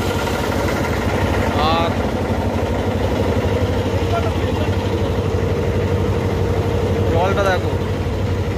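A river-crossing boat's engine runs at a steady drone throughout, with water noise underneath and people talking over it nearby.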